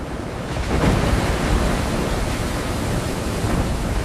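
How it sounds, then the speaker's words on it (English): AI-generated ocean waves and tides roar as a dense, steady wash of surf that swells slightly after the first second and then holds loud and even, with no voices. "The waves and tides are amazing. Sound effects feel completely natural"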